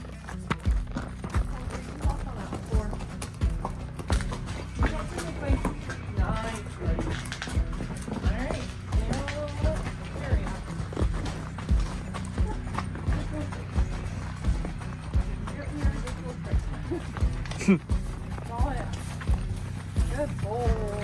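A horse's hooves clip-clop on concrete in a steady walking rhythm, close by, while a person talks over the footfalls throughout.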